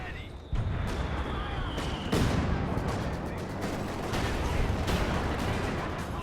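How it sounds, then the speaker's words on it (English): Mortar pit firing in a Company of Heroes 2 2v2 match, a dense battle bed of repeated loud blasts and bursts of gunfire with sharp transients, continuous and busy throughout, with speech likely mixed in. "that mortar pit is doing its damn thing"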